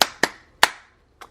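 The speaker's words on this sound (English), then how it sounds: "If y'all doing well, just clap it up." Four sharp hand claps, close and fairly loud: two quick claps, a pause, a third, then a fainter fourth after a longer gap.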